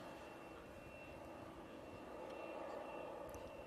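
Steady broadband jet roar of a Boeing Dreamliner's engines at Manchester Airport, heard from a distance as a continuous wash that swells slightly toward the end, with a thin high whine riding over it.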